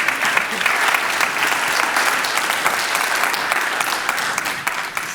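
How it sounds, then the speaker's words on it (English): Sustained applause from a conference audience at a quantum science event, dense and steady clapping filling the room for several seconds at close range. "I would like everybody to have a round of applause"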